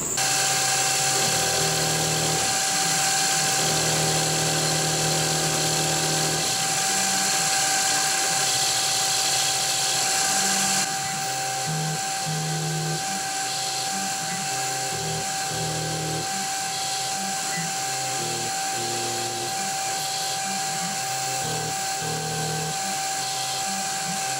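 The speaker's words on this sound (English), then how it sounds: "that sounded a bit funky when it was cutting through the fins, but it smoothed out when it got into the solid metal underneath" A milling machine cuts through the cooling fins of a Titan .60 model glow plug engine, a continuous high-pitched whine and chatter with rhythmic interruptions that steadies partway through, with no talking.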